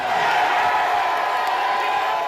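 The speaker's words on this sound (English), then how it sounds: "one half cheering, the other half heckling" A large outdoor political rally crowd of thousands at old-fashioned stump speaking, cheering and heckling at once: a dense, continuous roar of voices at steady loudness with no single speaker standing out.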